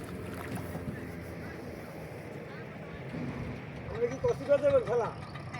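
A boat moves across water at Char Kukri-Mukri island in Bangladesh, with steady wind and splashing noise, while people talk nearby toward the end.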